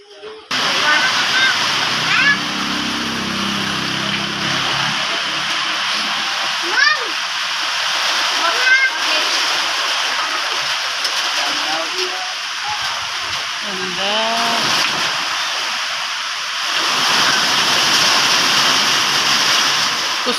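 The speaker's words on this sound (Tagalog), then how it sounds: "Ang lakas ng ulan. Lakas ng tulo." Steady heavy downpour roars throughout, with splashing water and occasional voices beneath the constant wash.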